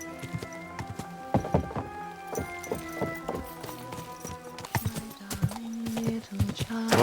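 Horse hooves clip-clop steadily on hard ground in Kingdom Come Deliverance 2, close and rhythmic, with faint tack rattles and a short snort, while someone speaks calmly over them.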